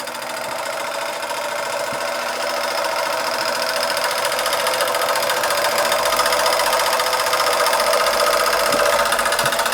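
A small German model steam engine with a vertical boiler runs steadily up close, giving a continuous hissing whir with a fast mechanical chatter and occasional faint ticks, no voices.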